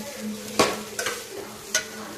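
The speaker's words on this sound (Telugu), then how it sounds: "ఇలా పోపులో వేసేసుకొని అంతా కలుపుకోవాలి మంచిగా" Soaked poha stirred into hot tempering in a pan: a soft steady sizzle broken by three or four sharp spoon scrapes and clicks against the metal, close up, with no talking.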